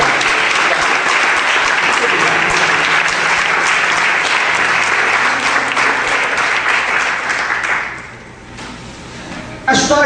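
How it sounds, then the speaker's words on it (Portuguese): A church congregation applauds loudly and continuously during a Portuguese-language sermon, the clapping fading out near the end before a brief burst of sound. "Você pode aplaudir até o Senhor?"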